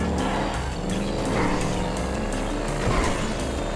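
Engine roar of a large motorcycle ridden in the video game Grand Theft Auto V, played on PlayStation 5, a loud continuous drone with revving swells that fill the whole clip.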